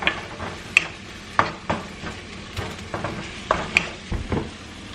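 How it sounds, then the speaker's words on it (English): A spoon or spatula stirring ground turkey, zucchini noodles and tomatoes in a pan, with repeated sharp scrapes and clinks against the metal over a faint simmering sizzle, close and irregular. "we're gonna stir that all together and kind of let that simmer"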